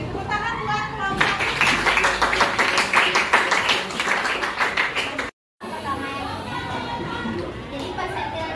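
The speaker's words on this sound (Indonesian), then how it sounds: "Tepuk tangan buat kelompok." A class of students claps for a group in a classroom, a lively burst of several seconds with children's voices chattering underneath, then a brief cut before quieter talk and murmuring resume.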